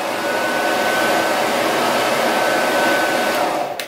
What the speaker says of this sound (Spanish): voy a utilizar un secador de pelo